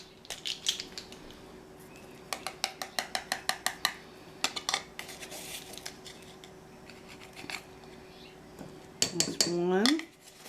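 A metal teaspoon scoops baking powder from a container, making repeated quick clinks and scrapes in short bunches, close and fairly quiet, with a brief voice near the end.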